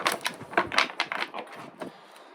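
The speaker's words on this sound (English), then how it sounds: "let me get one more shuffle and we will get started" A rapid run of soft papery flicks and riffles, tarot cards shuffled up close, coming in quick bursts and tapering off toward the end.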